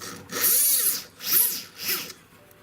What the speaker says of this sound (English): So I'm going to use the ball burr now to countersink the underside